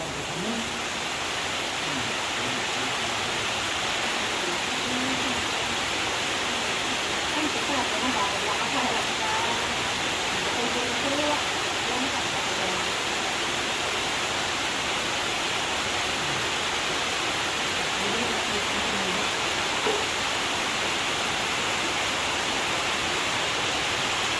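Dense, steady roar of heavy rain pouring down, a constant hiss filling the whole stretch without letup.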